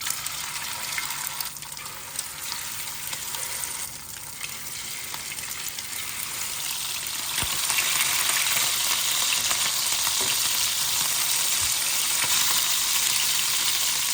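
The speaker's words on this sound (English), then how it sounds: "So even though this was like pan shallow frying, it doesn't absorb too much oil, this chicken." Steady, dense sizzling of chicken frying in shallow oil, a continuous crackling hiss that grows a little louder partway through, with no talking.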